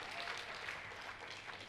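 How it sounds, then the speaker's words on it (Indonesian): Dense, steady applause from a church congregation during a sermon, filling the whole moment at an even, lively level with no pause. "Kita kasih tepuk tangannya pula yang paling meriah buat Tuhan kita."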